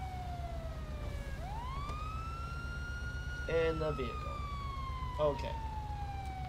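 Police car siren in the LSPDFR police video game, a loud wailing tone that sweeps down and back up, then holds steady as it slowly falls, with someone speaking briefly over it.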